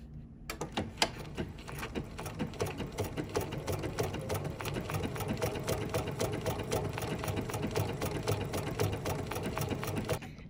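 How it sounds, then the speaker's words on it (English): Close and alone, a sewing machine runs a feather triple stitch, a steady mechanical whir with dense rapid ticks that starts after a brief pause and continues evenly for about ten seconds. "I'm gonna stitch my feather triple stitch"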